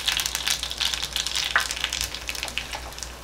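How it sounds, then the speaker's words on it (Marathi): Mustard seeds, cumin and asafoetida sizzle in hot oil for a tempering, with a close, loud crackling fry and scattered sharp pops and no talking. "एक फोडणी करून घेऊ आपण."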